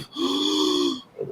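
A voice imitates heavy, raspy breathing: one long wheezing breath of about a second, close and fairly loud, then a shorter breathy gasp.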